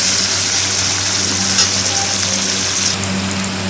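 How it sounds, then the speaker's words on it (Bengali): Sliced onions and green chillies fry in a pan, giving a loud, dense, unbroken sizzle throughout with a low steady hum underneath and a slight drop in intensity near the end. "তো চলো এগুলো একটু ভালো করে ভাজা ভাজা করে নিই।"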